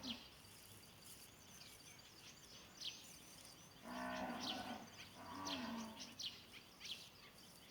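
A cow moos on a papaya farm in Kalasin, Thailand, giving two low drawn-out calls in quick succession at moderate distance, with faint bird chirps and quiet outdoor ambience around them.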